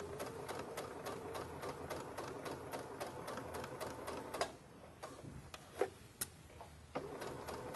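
A sewing machine stitches a lapped zipper along the zipper teeth, running in a steady rapid needle rhythm for several seconds, then stopping to leave a few isolated clicks and light handling noises, quiet and with no talk.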